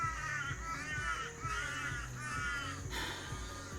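Several crows cawing loudly and repeatedly in harsh, overlapping calls, close by and continuous, with no talk over them.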